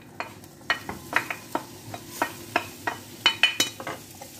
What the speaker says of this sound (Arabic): غادي نشحر البصله مع الكفته